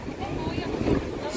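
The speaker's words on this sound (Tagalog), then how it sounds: "mahangin dito sa tabing dagat" Wind blows beside the water at Tower Bridge, London, a low blustery rumble buffeting the microphone for a brief moment.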